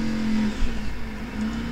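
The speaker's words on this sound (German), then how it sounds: "Hört sich nach einer Vespa an." A Vespa scooter engine revs somewhere outside a window, a buzzing, rasping drone that rises and falls briefly, heard fairly clearly on its own.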